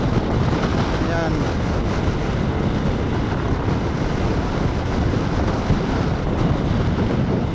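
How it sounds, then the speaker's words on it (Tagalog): Strong wind buffets the microphone during a motorcycle ride in Pangasinan, a constant loud roaring rush with no let-up, masking everything else. "Grabing hangin ang lakas."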